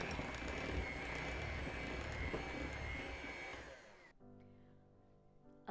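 Electric mixer running on low through banana bread batter, a steady loud whir with a slight drop in pitch that cuts off after about four seconds, leaving a faint low hum.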